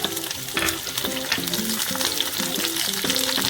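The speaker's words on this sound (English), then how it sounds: "Now I will stir it well till the onion is goldenish." Onion and capsicum fry in oil while being stirred for veg manchurian, a loud, close sizzle beneath a recurring tonal pattern, likely background music, with no talking.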